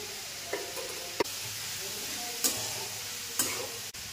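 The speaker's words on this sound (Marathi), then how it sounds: "इथं आता मी कांदा परतायला ठेवलेला आहे. तेल टाकून घेते." Onions fry in oil with a continuous close sizzle, broken by several sharp spatula knocks and scrapes against the pan at irregular intervals.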